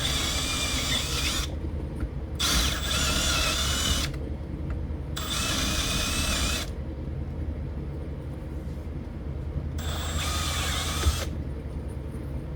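A power drill with a modified bit whirs in repeated bursts, grinding through welds on a 2014 Toyota Tundra door panel, with quieter pauses between each run.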